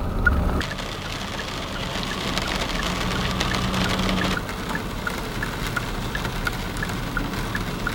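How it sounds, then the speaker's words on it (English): Rain starts to fall outdoors, a steady hiss of drops patters on surfaces throughout, with a faint mechanical hum underneath and a few small ticking hits. "And of course, now it starts to rain."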